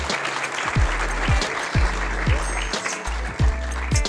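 Audience at the 2013 e-health trophies awards applauds a winner coming to the stage: broadband clapping runs beneath loud, rhythmic bass-heavy music hits that pulse roughly every second.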